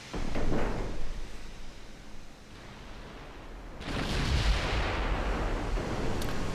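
A tank cannon firing HE shells in a video game gives a heavy, booming blast, then a long rumbling roar and a second deep blast with sustained rumble, steady and fairly loud, with no talk.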